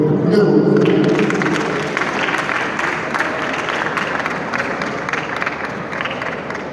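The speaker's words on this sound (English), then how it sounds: "Please, can we give him another round of applause?" An audience at a live stage play, held in memory of Eze Kanu Oji, breaks into loud, sustained applause that fades slowly over several seconds.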